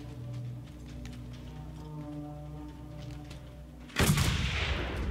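A sudden loud shotgun blast in the video game Mad Max breaks over a low engine-like hum, its roar trailing off over the final second.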